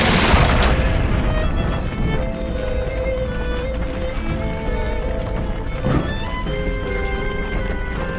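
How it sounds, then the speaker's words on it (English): Explosion in the Ben 10 Ultimate Alien Cosmic Destruction game at the Eiffel Tower level: a loud broadband boom at the start, then a steady rumbling game soundscape with tonal music layered over it and a second smaller impact midway. "Explosion! Incoming!"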